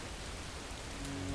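Steady rain falling on a surface, a soft continuous hiss with no distinct drops standing out, faint and even throughout, with a low hum entering near the end.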